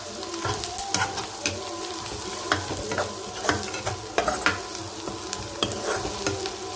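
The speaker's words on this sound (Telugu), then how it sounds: "లైట్గా పసుపు వేసుకున్నాం కదా, మొత్తం ఒకసారిగా కలిపేసుకుందాం" Turmeric, tomato, red chili powder and rock salt stirred into a frying pan, a spoon scraping in irregular knocks over a steady sizzle of hot oil, close and moderately loud, with no talking.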